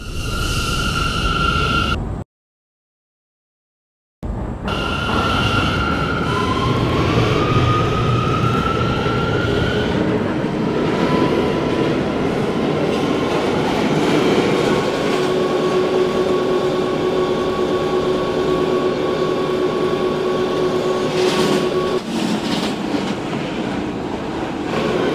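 An R179 New York subway C local train hums and rumbles as it runs between stations, a brief cutout early on, then steady motor whine with rising electric tones and rail noise, no voices.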